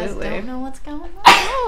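A single sharp sneeze bursts out near the end, following a few seconds of casual talk while friends play the game Life Is Strange.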